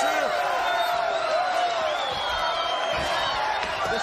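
Wrestling arena crowd at a WCW event roaring and shouting, a dense sustained wall of voices with scattered whoops rising and falling throughout.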